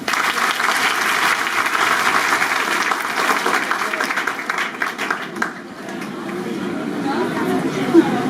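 A crowd of students in a classroom gathering applauds in dense, sustained clapping that tapers off midway, with voices heard faintly around it.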